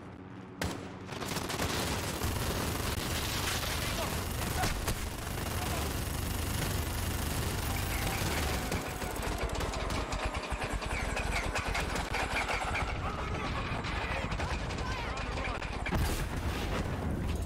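A minigun rattles continuously in the video game Call of Duty: Modern Warfare (2019), a dense, loud stream of rapid gunfire with heavy rumbling blasts mixed in, sustained throughout, while a person talks over it.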